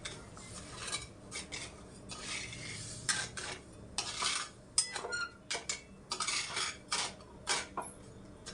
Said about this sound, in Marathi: तर आपल्याला आता पाक करायचा आहे. तर ही साखर अशीच हलवत राहायची